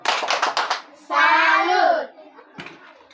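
A classroom group performs the tepuk salut clapping routine: a quick run of sharp, close claps, then a short chanted shout from the children, ending with one final clap.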